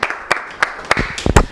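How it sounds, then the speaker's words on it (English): Audience applause, heard as a handful of sharp, separate claps spaced out irregularly, close and loud, with a low thump near the end. "give my girl Sakai Odinga a round of applause"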